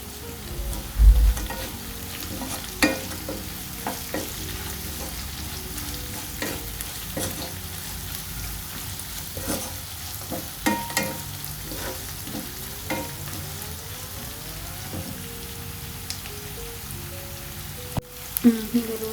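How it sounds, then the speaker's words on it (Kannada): Tomato masala for chitranna frying and being stirred in a pan, a steady close sizzle with spoon scrapes and stirring clatter throughout, no talk. "ಚೆನ್ನಾಗಿ ಫ್ರೈ ಮಾಡ್ಕೋಬೇಕು ಇದನ್ನು, ಆಗಲೇ ಚಿತ್ರಾನ್ನ ಚೆನ್ನಾಗಿರೋದು."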